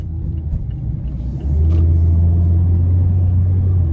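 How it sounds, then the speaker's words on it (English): A 2023 Mazda MX-5 Miata RF Grand Touring drives on the road, heard from inside as a loud, steady low engine and road rumble that steps up in strength partway through as the car pulls away. "let's go ahead and take this 2023 Miata MX-5 out on the road for a test drive"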